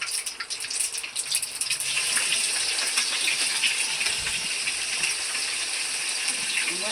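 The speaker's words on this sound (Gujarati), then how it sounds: "અને હવે આપણે સુધારેલા મરચાં હતા ને મરચાં નાખી દેવાના છે એમાં." Chopped green chillies go into hot oil with popped mustard seeds while Surti khaman tempering is made, giving a steady bright hiss and crackle that stays loud and continuous throughout.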